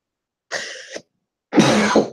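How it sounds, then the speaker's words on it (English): A person coughs twice close to the microphone, a short hoarse cough followed after a pause by a longer, harsher throat-rasping cough. "Sorry, I'm coughing so much."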